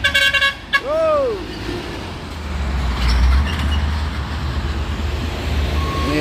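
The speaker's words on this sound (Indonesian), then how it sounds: "dump truck" Heavy dump truck grinding up a steep hill road, a deep sustained engine drone rising in strength, after a horn blast and whistle-like tones at the start, with people talking nearby.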